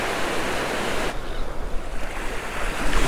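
Big ocean waves crash and surge steadily, loud and close, with rushing surf and wind noise filling the whole stretch on an open-water fishing outing.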